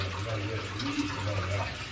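Oil pours into a machine in a steady, soft trickle that is faint and continuous, with a low background hum underneath.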